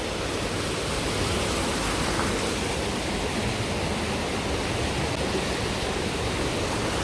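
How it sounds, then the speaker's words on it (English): Flowing water at MacRitchie Reservoir in Singapore, a constant, loud, broadband rush like a steady cascade, unchanging throughout with no voices. "And very relaxing to hear the water sound."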